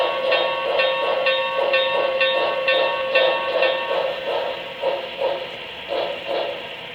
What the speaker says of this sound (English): Has a very, very distinctive Pensy whistle on it